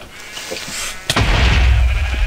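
A creeper explodes in Minecraft and blows sheep into the air: quiet game ambience with a faint bleat, then a sudden loud, close blast that leaves a heavy rumbling roar to the end.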